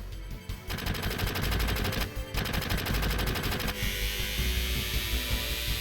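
Barrett's gun blazing in Final Fantasy VII, a loud, dense rapid-fire burst of automatic shots that cuts out briefly near the two-second mark and then resumes, trailing into a sustained hiss of noise, with no talk over it.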